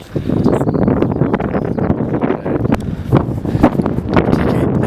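Strong wind buffets the microphone on a foggy mountain top, a loud, continuous rumbling roar with gusty thumps throughout.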